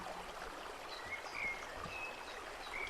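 A natural river flowing gently, a soft continuous trickling and babbling wash with faint bird calls scattered through, calm and without voices.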